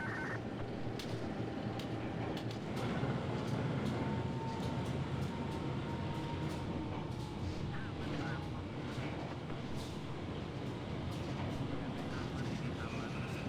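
Steel wheels and brakes of a simulated passenger train rumble as it slows on the approach to Blitar station in Trainz Simulator, a steady low roar with faint squeals and clicks, heard at moderate level throughout.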